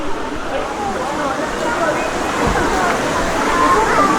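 Water spills down a small cascade into a natural swimming pool on Camiguin, a steady broadband rush and slosh that stays constant throughout, with faint voices mixed in underneath.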